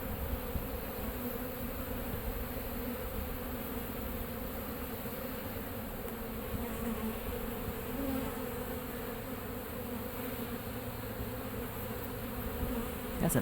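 Dense, steady buzzing of a honeybee swarm in a backyard feeding frenzy on cut-out honeycomb, a continuous close drone of many wings with no pauses.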